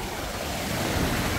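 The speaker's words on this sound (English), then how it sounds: "Getting splashed by the ocean." Ocean waves splash and wash at Navarre Beach, Florida, a steady loud broadband rush with wind buffeting the microphone and no pauses.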